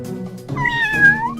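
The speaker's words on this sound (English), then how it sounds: "Meow." A cat lets out a single loud, close meow with a rising then falling pitch, heard clearly over a faint low background hum.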